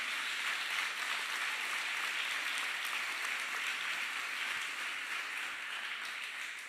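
Sustained applause from a church congregation during a sermon, a dense steady wash of clapping that holds evenly throughout and tapers slightly near the end.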